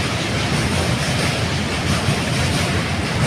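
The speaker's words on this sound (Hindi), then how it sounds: "ये ऊपर ब्रिज है, ये ट्रेन निकल जाए फिर हम बात करते हैं।" A train passes over a bridge overhead, a loud continuous rumble and rattle of rolling wagons that fills the whole stretch with no talk.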